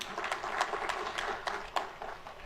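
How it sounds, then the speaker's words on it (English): Scattered applause from a seated audience at a Uganda–UAE business summit, a thin, uneven patter of clapping in a large room with a few louder claps standing out. "Can we give them a round of applause?"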